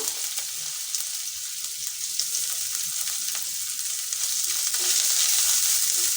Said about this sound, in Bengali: তেলে দিয়ে দিচ্ছি আদা কুচি আর দিয়ে দিচ্ছি পেঁয়াজ কুচিটা